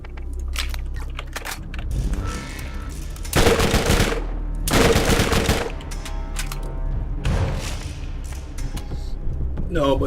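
Borderlands double SMG (Tediore-type) firing in rapid automatic bursts, with two loud dense volleys standing out among lighter shots and game ambience, fairly close.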